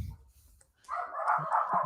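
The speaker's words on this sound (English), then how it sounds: "my dogs are barking" Dogs bark somewhere in a house, a short burst of muffled, fairly distant barks and yips after a quiet moment, heard alone without talk.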